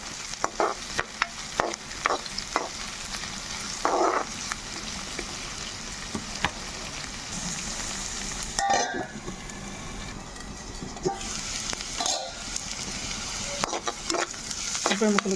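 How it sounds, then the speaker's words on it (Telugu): Onion pieces sizzle in a pan for an okra tamarind stew, with a steady frying hiss broken by repeated scraping stirs and occasional utensil clinks against the pan. "ఇది ఉల్లిపాయలు చక్కగా మగ్గనిద్దాము"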